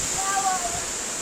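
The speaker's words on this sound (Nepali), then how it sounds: "झरनाको चिसो पानी" Cold water from a waterfall pours in a steady, close, hissing rush through a short moment, with a voice briefly sounding over it.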